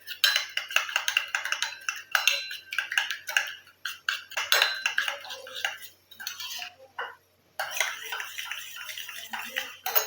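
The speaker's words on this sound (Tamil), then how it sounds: "இது நல்லா மிக்ஸ் பண்ணி விட்டுருவேன்" A spoon clinks and scrapes as coffee powder is stirred into a hair pack mixture in a small bowl, giving rapid irregular ticking bursts close by with a brief pause near the end.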